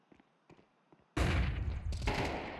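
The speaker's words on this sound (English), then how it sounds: "Just tap away with an AK" AK rifle fire in Counter-Strike 2 starts abruptly after a few faint clicks, a loud close burst of rapid shots that rings out and decays over about a second and a half.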